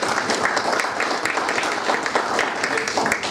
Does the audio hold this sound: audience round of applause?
yes